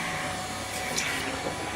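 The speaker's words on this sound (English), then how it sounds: "You can hear that one leaking immediately." Pressurized SF6 gas escapes from leaking electrical equipment as a steady, close, continuous broadband hiss that holds an even level throughout.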